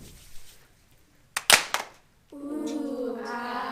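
A classroom praise cheer imitates fireworks: a sharp clap burst, then a rising voiced whistle-like tone mimicking a rocket, performed close and alone.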